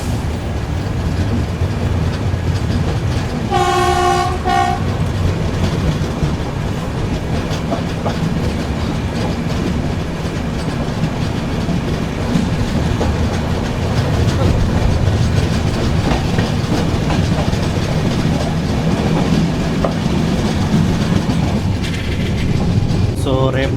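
A passenger train rolls past on the adjacent single-route track while the Telangana SF Express stands halted, its steady rumble and clickety-clack continuing for the whole stretch, with a brief horn-like tone early on.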